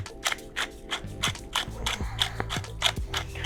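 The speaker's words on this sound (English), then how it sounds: "And add a ton of pepper." A pepper mill grinds a generous amount of pepper over a dish. Rapid ratcheting, crunchy clicks repeat in an irregular rhythm, loud and close, with no talk.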